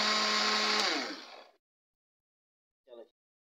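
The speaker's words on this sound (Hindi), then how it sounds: "अब इसको फ्राई ग्राइंड कर" An electric grinder whirs loudly while grinding spice masala for a dhaba-style chicken gizzard dish, then spins down and stops, followed by a short clunk after a pause.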